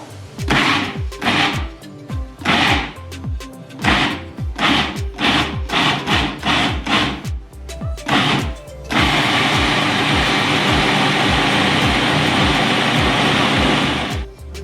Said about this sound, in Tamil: இப்போ இதில் உங்களுக்கு அரைச்சி காட்டுறேன்.